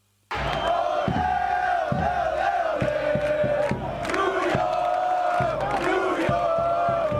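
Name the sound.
stadium crowd cheering in video game Football Manager 2018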